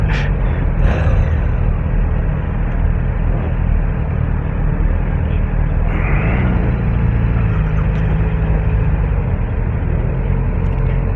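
A Suzuki GSX-S1000GT motorcycle pulls away on low rev assist as the clutch is eased out. A steady close engine rumble runs throughout, rising slightly as it gets moving, with no talk over it.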